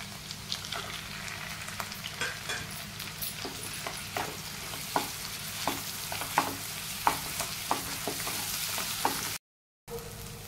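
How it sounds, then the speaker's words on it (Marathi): Onion and ground masala paste frying in a pan for Kolhapuri mutton rassa, a constant sizzle broken by rhythmic scraping stirs, close, with a brief silence near the end. "कांदा गुलाबी रंगावरतीच परतून घ्यायचा आहे। आता लगेचच आपल्याला मगाशी जे वाटण आपण काढून घेतलं होतं ते घालायचं आहे।"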